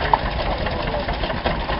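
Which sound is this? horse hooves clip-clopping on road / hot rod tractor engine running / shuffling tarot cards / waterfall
hot rod tractor engine running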